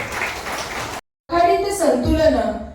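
Applause at a municipal retirement ceremony, a steady wash of clapping from a gathered crowd that cuts off abruptly, followed by amplified speaking or singing.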